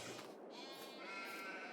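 Sheep bleat in the farming video game Farming Simulator 22, a sustained, quavering bleat that is faint and steady, alone without talk.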